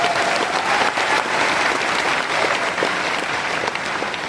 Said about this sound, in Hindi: इसके लिए ताली भी बजा सकते हो।